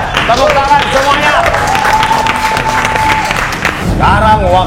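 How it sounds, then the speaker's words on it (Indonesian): Contestants on a cooking competition show clapping together after time is called, a short burst of applause mixed with voices and a sustained tonal sound across the middle. "Angkat tangannya, tepuk tangan semuanya."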